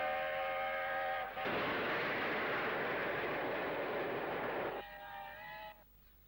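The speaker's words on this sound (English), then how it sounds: "Kingfisher, chime whistle blowing, races towards Clapham Junction and on past Pirbright." Steam locomotive Kingfisher, no. 60024, sounds its chime whistle twice, a multi-toned blast around a long loud rush of steam and rolling train noise as it races past, fading toward the end.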